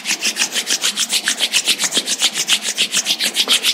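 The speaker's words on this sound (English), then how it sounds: "let's generate some energy between our hands by rubbing our palms against each other" Palms rubbing briskly together in a steady back-and-forth rhythm, about five strokes per second, close and clear with no talking, as part of a yoga meditation practice.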